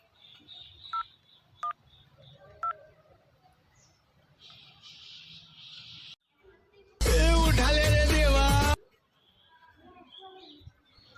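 Telephone keypad dialing tones, three short separate beeps spaced about a second apart, followed by a loud burst of other sound and some talk in the background.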